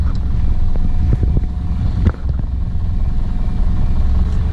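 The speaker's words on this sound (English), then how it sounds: "car's idling." A racecar engine idles steadily nearby, a low, even rumble with a few small clicks and knocks.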